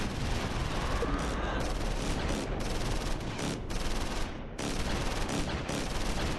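Dense, continuous gunfire and explosions from the World War II video game Close Combat IV, loud and close, with rapid overlapping shots and brief dips in the clatter.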